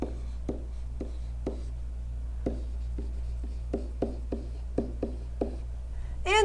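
Pen or marker writing on a surface while x-intercepts are noted down, a series of short scratchy strokes in an irregular rhythm over a steady low hum, with no talking.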